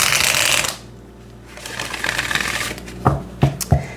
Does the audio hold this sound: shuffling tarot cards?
yes